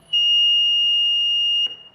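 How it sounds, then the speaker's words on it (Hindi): A touch-sensor alarm circuit's electronic buzzer lets out one steady, piercing high tone for about a second and a half, then cuts off with a faint click. "जिसकी वजह से मेरा बजर और एलईडी ऑन हो गए"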